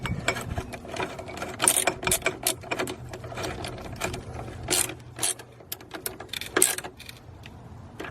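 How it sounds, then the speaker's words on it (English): A small ratchet tightening the clamp on a 12-volt battery in a 2016 Kia Soul EV, rapid metallic clicking in uneven bursts, close and fairly loud, with no talking. "Doesn't need to be very tight, that's why I use a small ratchet."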